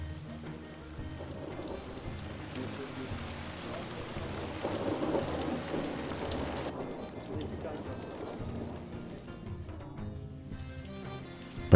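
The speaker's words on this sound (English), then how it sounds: "Under the rain, in the Black Lake, together with the rain, witness the touch of thunder on water." Steady rain patters on the water of Black Lake in Artvin, a dense, continuous hiss with low rumbling beneath, while a voice talks over it throughout.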